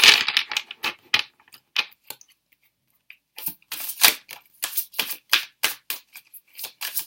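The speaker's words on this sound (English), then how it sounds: "I'm just going to shuffle the cards." Tarot cards shuffled by hand in close, crisp bursts of riffling and slapping, with a brief quiet pause in the middle before the shuffling resumes in quick, uneven clusters.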